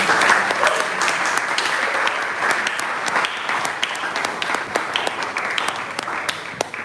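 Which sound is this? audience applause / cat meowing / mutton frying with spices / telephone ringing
audience applause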